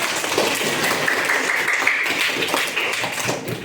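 A classroom of students claps together in a short burst, a dense, even patter of many hands that holds steady for a few seconds and then starts to fade.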